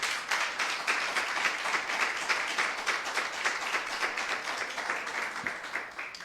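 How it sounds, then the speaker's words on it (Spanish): A church congregation at a Sunday service applauds steadily and densely for several seconds, a sustained wash of many hands clapping with no talk over it. "denle un aplauso al Rey."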